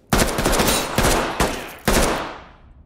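Gunfire in the tactical shooter Ready or Not, a few close, loud bursts of rapid shots, each ending in a decaying echo, no talking.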